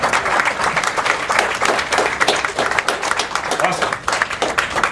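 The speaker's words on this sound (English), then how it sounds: "Everybody, give them a big round of applause." Dense, sustained audience applause fills a hall at an Elevation Health medal-of-honor awards ceremony, steady and close throughout with no break.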